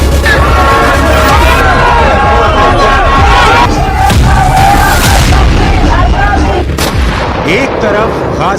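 Protesters fill Israeli streets against their government, a dense loud crowd roar with shouting and cries, punctuated by sharp bang-like bursts throughout.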